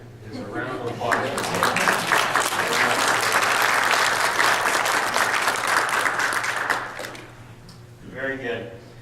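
An audience at a conference demo session breaks into a dense burst of clapping that holds steady for several seconds and then tapers off, with a voice talking briefly before and after.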